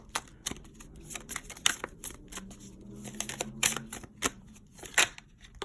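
A tarot card deck is shuffled by hand in uneven bursts of soft riffling and slapping, quiet and close, with short pauses between the shuffles.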